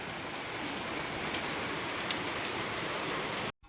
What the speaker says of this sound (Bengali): প্রচণ্ড জোরে বৃষ্টি পড়ছে এই দেখো